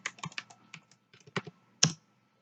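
Fingers typing a user ID and password on a computer keyboard to log into Shimadzu LabSolutions lab software: a quick, uneven run of close keystrokes ending in one louder key press.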